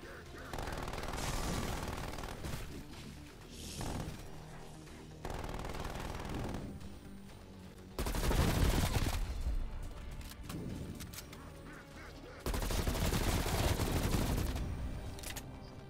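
Automatic fire from a turret in a video game, rattling in several loud bursts separated by short quieter gaps, with faint mechanical clatter between volleys.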